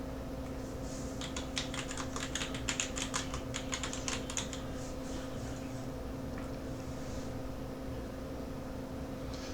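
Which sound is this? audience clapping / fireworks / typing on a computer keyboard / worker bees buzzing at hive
typing on a computer keyboard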